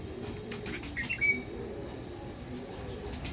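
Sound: bird cooing in a mango tree

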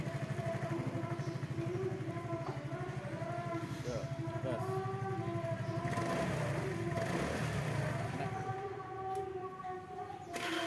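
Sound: motorcycle engine running

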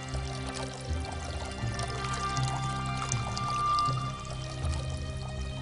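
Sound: water clock, water running from one jar into another

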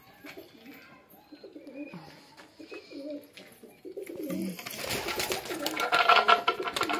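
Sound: pigeons cooing

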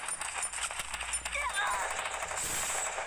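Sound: gunfire in video game Free Fire

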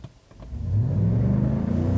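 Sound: GMC Sierra AT4 6.2L V8 engine revving

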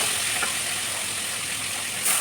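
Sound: fish frying in oil

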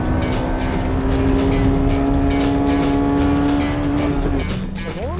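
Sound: Honda Civic Type R engine racing on track

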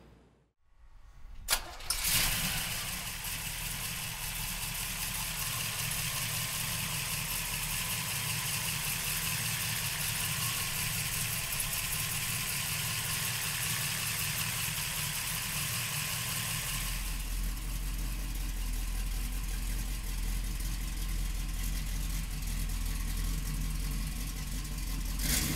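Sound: 1968 Chevrolet Camaro 302 engine starting and idling

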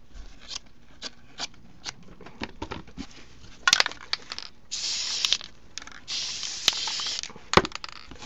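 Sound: folding burlap fabric over a pumpkin

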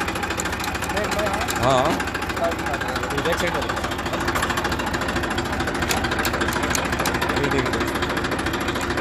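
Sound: Massey Ferguson 241 tractor engine running

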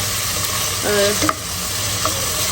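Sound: frying spiced onion, ginger and garlic while stirring

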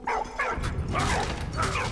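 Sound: dog barking in the video game Valiant Hearts

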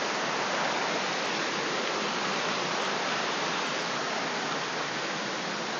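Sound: waterfall flowing down beside the trail at Tat Mok

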